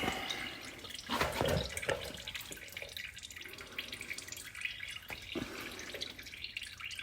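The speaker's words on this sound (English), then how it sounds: "So you can see the fluid draining out of these coolant pipes." Coolant fluid from the pipes of a 2007 Audi A4 2.0 TFSI draining into a bucket. It makes a faint trickle with irregular drips and splashes nearby, with a few louder spatters early on and no speech.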